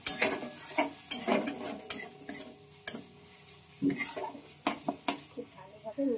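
A spoon stirs coriander leaves into a spice mix with potatoes and egg in a pan, giving close, irregular metallic scrapes and knocks against the vessel, with a faint sizzle between the strokes.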